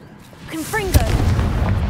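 A Confringo explosive spell blast in Hogwarts Legacy, a loud sharp burst near the middle followed by a rumbling low roar, with a shouted voice and rising whoosh just before it.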